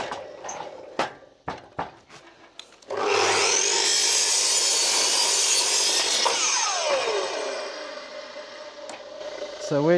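A power saw cuts through leftover wooden mould boards during a porch renovation on a century-old Queensland house. A few sharp knocks come first, then a steady high whine of blade in wood runs for several seconds and winds down.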